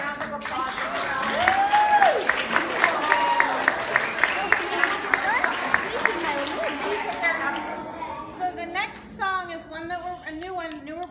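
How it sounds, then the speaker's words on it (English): Audience applause at an a cappella concert premiere, with clapping that builds and then continues steadily for several seconds. Cheers and crowd voices mix in, and the applause tapers off toward the end. "give her a round of applause as well"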